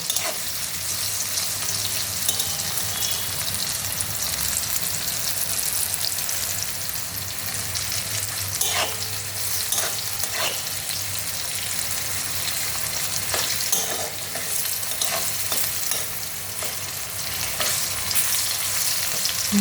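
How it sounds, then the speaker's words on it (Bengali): Neem leaves fry in hot oil with a steady, even sizzle and scattered soft crackles that run unbroken throughout, no voices. "এই তেলটার মধ্যেই পাতাগুলি দিয়ে দেবো।"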